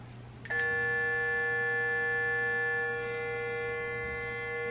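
A Clarisonic electric facial cleansing brush switches on abruptly with a loud buzz and holds a steady, tonal whine, easing slightly in volume toward the end.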